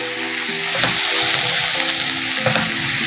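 Spoon stirring a creamy garlic mushroom curry with shredded mozzarella in a hot pan, a close steady sizzle with soft scraping strokes and light clinks of the utensil.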